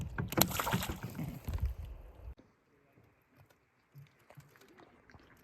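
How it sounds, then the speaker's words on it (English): A canoe is paddled across a wilderness lake near sunset, with close splashing strokes for a couple of seconds, then near-quiet with faint drips and gentle water movement. "we've paddled probably for about 20 minutes on this lake"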